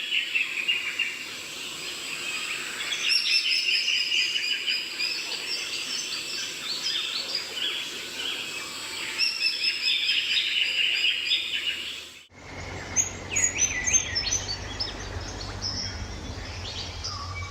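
Spangled drongo calls ring out amid a dense forest chorus of birds and insects, steady throughout, with the texture shifting abruptly partway as a low hum joins in.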